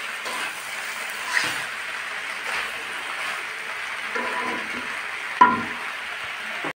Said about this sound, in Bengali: দেখো বন্ধুরা, আমি নাড়াচাড়া করে দিচ্ছি, আর একটু চাপা দিয়ে দিয়ে তুলে আবার নাড়াচাড়া দিচ্ছি।